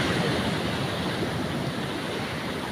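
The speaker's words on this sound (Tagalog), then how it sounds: "Grabe alon, ang laki alon." Big ocean waves rolling and crashing along a fishing shore, heard as a continuous broadband roar of surf, steady and fairly close, with no voices over it.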